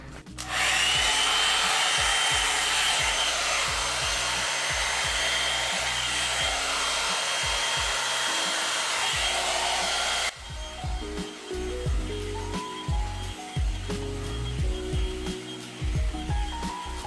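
Hair dryer running on its highest setting, blowing steadily and loud throughout while hair is brushed at home, with the airflow shifting partway through and faint rubbing of the brush.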